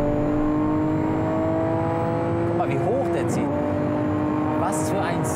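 A 700 hp sports car engine drones loudly and steadily nearby, its pitch sliding briefly as it revs, with voices talking over it.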